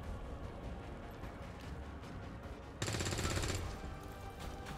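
Gunfire in XCOM 2 aimed at a Faceless: a sudden loud burst of shots lasting about a second over steady game noise, then fading back to the ambient bed.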